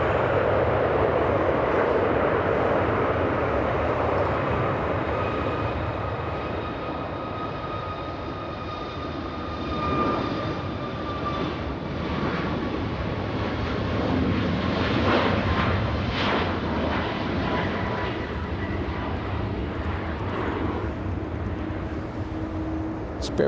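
A WestJet airliner bound for Winnipeg roars steadily at LAX, with gliding engine whines falling slowly in pitch. A broad rumble swells and eases across the stretch.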